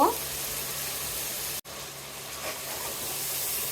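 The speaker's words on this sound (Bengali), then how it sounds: "আমি এখন সুন্দর করে অনেকক্ষণ মশলা কষিয়ে নিব।" Ground spices and chili fry in oil for a beef khichuri, giving a steady, even sizzle and hiss that breaks off for an instant midway and then carries on at the same level.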